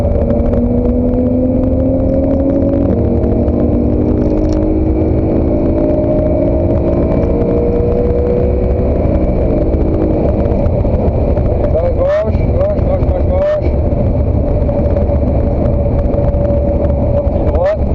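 A race car accelerates hard around the Spa-Francorchamps circuit, its engine droning loud and steady with rising pitch sweeps, while a coach's voice speaks over it.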